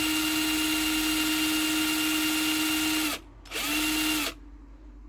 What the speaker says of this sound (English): just connect a drill to the taco cable